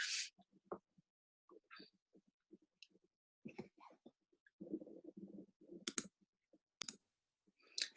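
Several sharp, close computer mouse clicks spaced irregularly, with quiet handling noises between them in a still room.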